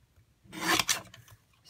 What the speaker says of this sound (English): I'm going to trim this a little bit closer